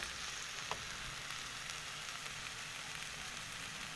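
Chicken pieces with herbs and vermicelli stuffing frying in a pan, giving a steady, even sizzle and crackle that holds close and fairly quiet throughout, with no talking.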